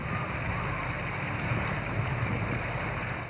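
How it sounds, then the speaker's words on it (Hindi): Heavy, steady rain in Kandhkot, Pakistan, hisses evenly and loudly throughout, dense and unbroken, with no voices on top. "कंदकोट में गुज़िश्ता 4 घंटों से मुसलसल बारिश।"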